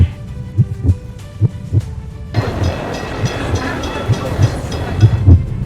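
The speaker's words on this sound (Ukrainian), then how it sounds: "Моє серце забилось." A steady, thumping heartbeat pulses at an even rhythm, soon joined by a rushing, rumbling wash of noise while the beats continue underneath.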